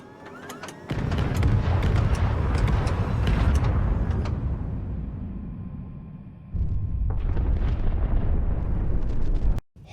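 A missile explodes against a warship's stern in the HighFleet video game: a heavy, rumbling blast roars for several seconds, dips, then a second loud burst erupts before cutting off abruptly.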